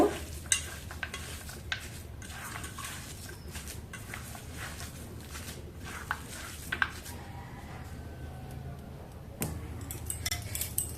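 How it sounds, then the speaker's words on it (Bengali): Soaked chana dal kofta ingredients are mixed by hand with yogurt and coconut paste in a bowl, producing soft, wet stirring and squelching with occasional sharp clicks of a utensil against the bowl, close and fairly quiet. "এবার সব উপকরণ একসঙ্গে মেখে নেব"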